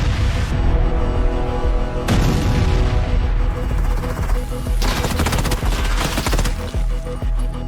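Rapid bursts of M16 rifle gunfire in PUBG on the Erangel map, loud and dense, with repeated sharp shots and booming echoes layered over continuous battle noise.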